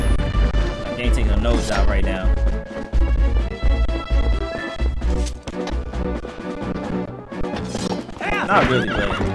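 A horse neighs and gallops with clip-clop hoofbeats in Zelda: Twilight Princess, layered over game music and effects, while a player talks excitedly throughout.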